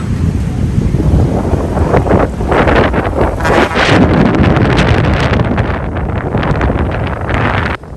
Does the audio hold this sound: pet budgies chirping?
no